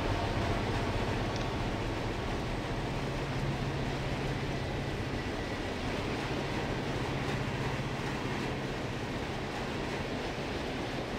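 Long freight train of about 5,070 feet, pulled by six locomotives at around 32 mph, rolling past at night as a steady, continuous rumble with rhythmic wheel clatter. The sound holds at a constant loudness throughout, with no talking.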